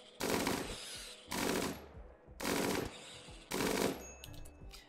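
Automatic gunfire in the video game RimWorld comes in four evenly spaced loud bursts of rapid machine-gun fire, each lasting about half a second with short quieter gaps between, and no talk.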